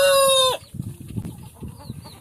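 A rooster crows loudly in a farm coop housing eight mature roosters and hens, then the crow breaks off into low, scattered clucks and soft scratching in the hay.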